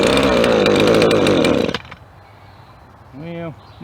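A Jonsered GC2125 two-stroke string trimmer engine that still needs carburetor adjustment runs loud and buzzing for nearly two seconds, then cuts out abruptly, and someone speaks briefly afterward.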